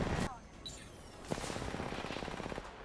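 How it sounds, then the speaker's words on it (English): Gunfire in Apex Legends as many players shoot the same target at once: a sharp opening shot, then a rapid, rattling burst of automatic fire at moderate loudness. "This amount of people all shooting the same person at one time."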